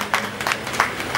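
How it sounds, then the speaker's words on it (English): An audience claps steadily through a short burst of applause at a club annual general meeting, filling the room with a dense, even patter. "Please give a big round of applause"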